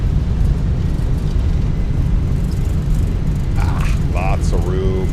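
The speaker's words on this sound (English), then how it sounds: "Nose down gently, reversers are out," Airbus A321 thrust reversers roar during landing rollout in the MSFS2024 flight simulator, a loud, steady broadband rumble throughout, with brief tonal chimes or voice-like sounds near the end.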